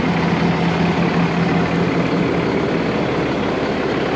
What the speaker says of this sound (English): Just have to listen to the truck hum a little bit. It's pretty quiet.